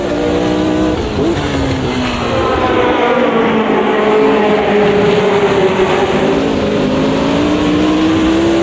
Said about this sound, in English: Get a decent launch anyway, up to second gear, down towards the first corner.